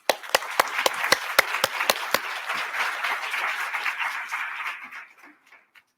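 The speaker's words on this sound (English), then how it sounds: "So let's welcome Meeyoung with a big round of applause." A conference audience applauds to welcome a keynote speaker, with several sharp, close claps at the start leading into a dense, steady round of clapping that tapers off into a few last claps.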